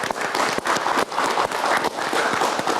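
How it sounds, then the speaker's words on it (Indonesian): An audience at a political event applauds. The clapping is loud and steady, with bursts that rise and fall in waves, and a crowd-like wash sits underneath it. "kita berikan tepuk tangan"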